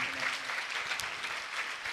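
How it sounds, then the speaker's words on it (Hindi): Congregation clapping during a Christian sermon, a brief, steady patter of many hands at moderate level with a faint voice underneath. "तालियां बजाओ कादर मुतलक के नाम की।"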